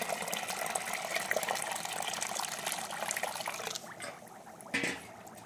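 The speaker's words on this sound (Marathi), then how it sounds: "आपण ह्याच्यामध्ये पाणी टाकून घेऊ।" Water is poured into ground rice flour in a bowl, a steady close splashing stream that stops partway, followed by a short bump and quiet, with no talking.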